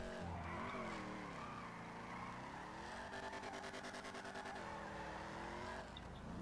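A car engine in GTA V drones and shifts pitch while tires squeal in a sustained skid, steady and fairly close, with no talking.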